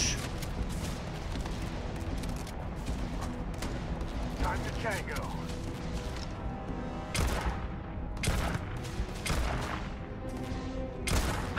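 Shots from a blue-rarity gun in the space video game Starfield ring out in repeated bursts and sharp cracks during a firefight, layered with dense combat noise while a player talks over the action.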